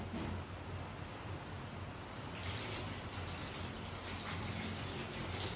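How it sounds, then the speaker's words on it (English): Hands being rinsed under a running tap during a hand hygiene routine, heard as a steady, close hiss of flowing water that brightens partway through, with no talking. "next step is you need to rinse your hands"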